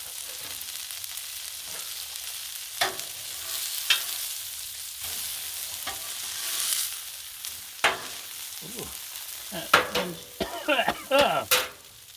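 Paprika sizzles on a hot Blackstone griddle while country fried steak cooks. It gives a steady hiss with surges of louder crackle, and sharp scraping and clanking bursts from metal utensils toward the end.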